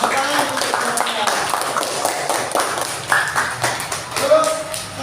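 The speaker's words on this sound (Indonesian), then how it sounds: "Kita tepuk tangan dulu, ya" Schoolchildren in a classroom clap hands in a patterned group clap, uneven bursts mixed with voices and a few bright tapping pings.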